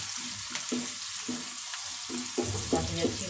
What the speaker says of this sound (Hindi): और प्याज को ब्राउन, हल्का ब्राउन होने तक इसको भूनेंगे।